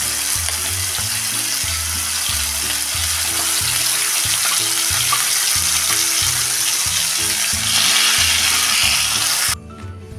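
Masala for a dhaba-style kaju masala curry sizzling in about three spoons of hot oil in a pan, loud steady frying hiss with rhythmic scraping and stirring, then cutting off abruptly near the end.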